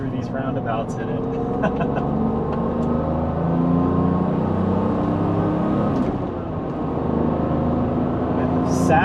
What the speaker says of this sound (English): And the sounds this engine makes are just fabulous.